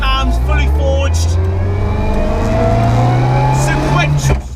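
A Mitsubishi Evo 6 rally car with forged internals and a sequential gearbox idles close by, a loud steady lumpy rumble with a deep uneven pulse.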